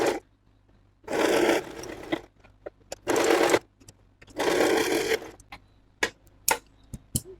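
A sewing machine stitches umbrella palazzo fabric in several close bursts of a second or so each, with quiet pauses between runs and a few sharp clicks and taps near the end.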